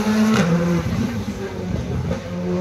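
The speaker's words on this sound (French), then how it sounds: "Gilles Roca en piste avec la Fabia numéro 17" A Skoda Fabia rally car, number 17, runs a rally stage shakedown at the Rallye d'Antibes, its engine droning steadily at a distance over constant background noise.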